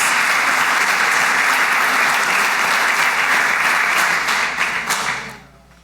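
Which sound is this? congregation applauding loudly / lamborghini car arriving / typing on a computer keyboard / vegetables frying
congregation applauding loudly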